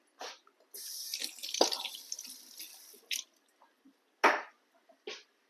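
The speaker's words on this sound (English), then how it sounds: "Let me rinse it off." Tap water runs in short bursts and splashes as a spatula is rinsed in a kitchen sink, close and fairly quiet, with drips between the bursts.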